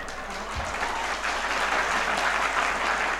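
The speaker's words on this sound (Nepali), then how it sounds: "अहिले यो ताली एउटा कुनाबाट बज्यो, अरू सबैले बजाउनु भयो।" An audience at a talk claps together in one sustained round of applause, dense and steady from start to finish with no voices over it.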